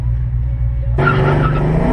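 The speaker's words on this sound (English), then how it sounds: "Takes me into a damn car race" A car races with tires skidding, a steady low engine drone giving way at the midpoint to louder, broadband screeching and roaring that persists to the end.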